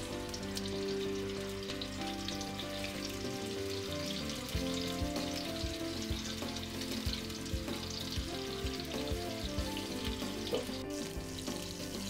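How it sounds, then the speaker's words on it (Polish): Seasoned chicken pieces for coq au vin sizzle and crackle in a very hot pan with a little fat, a dense continuous spatter close up, with occasional scrapes and shifts. "Tak przyprawionego kurczaka wrzucamy na patelnię z odrobiną tłuszczu."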